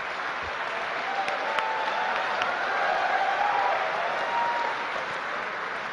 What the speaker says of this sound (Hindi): जितने हमारे एक सारे कैमरामैन हैं ये भी ताली बजा रहे हैं